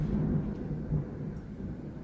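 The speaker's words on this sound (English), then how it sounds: "Oh, pardon me, you hear that thunder?" Low, rolling thunder rumbles steadily in the distance for a couple of seconds, a faint, deep murmur with no voices over it.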